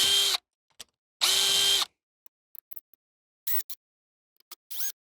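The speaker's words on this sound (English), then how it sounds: "So we're going to start with taking off the bigger screws that are closer to the base." A power screwdriver backs screws out of a Proteus Maximus moving-light tilt module, with two longer whirring bursts followed by a scatter of short clicks and quick spins, close and loud with silence between.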